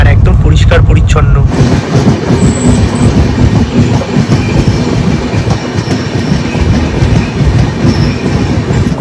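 The Darjeeling Mail train runs along the tracks near NJP Junction, heard from inside a coach as a loud, continuous rumble with brief rattling clatter at the start.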